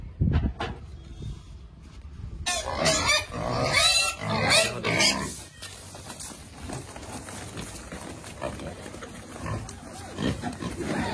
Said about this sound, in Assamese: একদম ভাল গাহৰি হয়